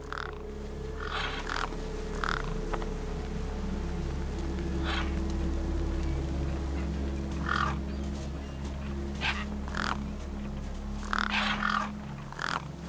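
Crows in the video game Beyond a Steel Sky caw over a corpse in scattered harsh bursts, several calls spread across the scene over a steady low ambient hum, with no speech.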